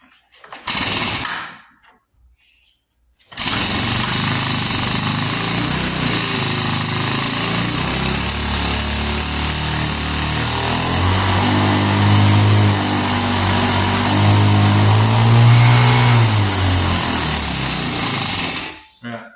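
Small vintage Hot Wheels gas go-kart engine with its choke held partly in, sputtering briefly, cutting out, then restarting and running loud and steady close by, with a rough idle that rises and falls for about fifteen seconds before stopping.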